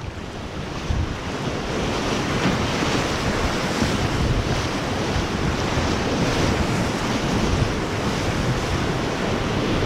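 Foaming rapids on the Ivalojoki river roar as a steady, loud, broadband rush that continues without a break, with wind buffeting the microphone.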